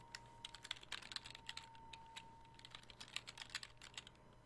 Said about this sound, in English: Just do a little bit of typing.